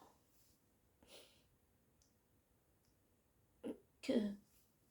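Quiet room with a soft sniff, followed by two short bursts of close-up throat clearing and a small cough near the end.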